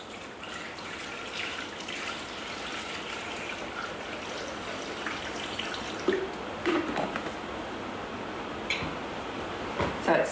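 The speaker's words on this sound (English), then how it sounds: "So we're going to put 500 grams of water." Water pours steadily into a Thermomix bowl, 500 grams of it, giving a continuous trickling wash with a few brief drips and clinks near the end, close and moderately loud with no talk.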